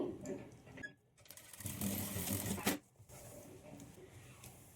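A sewing machine stitches a dori onto a blouse in a single short, faint burst of rapid mechanical whirring, with quiet handling noises before and after.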